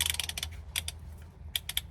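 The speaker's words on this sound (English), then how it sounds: "I got a long, super long extension on a 1/2-inch ratchet" A 1/2-inch ratchet on a very long extension clicks as it turns during Ford F250 cab mount work, giving quick bursts of close, crisp pawl clicks in short groups over a low background hum.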